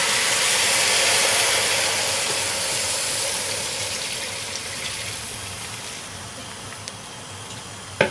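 A milk and sugar mixture is poured into rusk halva in a pan, giving a steady, fairly loud hissing pour that gradually fades, ending with a sharp clink near the close.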